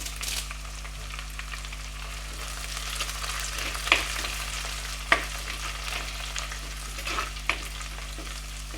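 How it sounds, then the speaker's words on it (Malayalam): Two sprigs of curry leaves frying in hot oil while being stirred, in the making of a rustic crab dish; a steady close sizzle with occasional sharp crackles and spoon clicks, no voices. "ഇതിലേക്ക് നമുക്ക് കറിവേപ്പില, ഞാൻ 2 തണ്ട് കറിവേപ്പില ഇട്ട് കൊടുക്കുന്നുണ്ട്"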